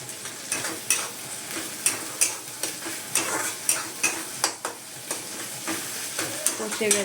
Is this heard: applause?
no